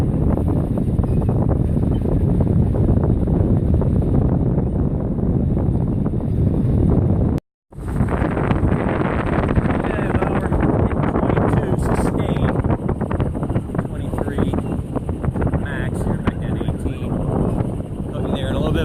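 Wind gusts steadily across the microphone while sailing on a boat, a loud continuous roar of buffeting that drops out briefly midway before resuming, with some talk faint underneath.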